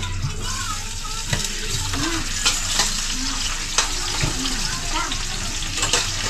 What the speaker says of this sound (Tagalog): Igisa na natin sang luya.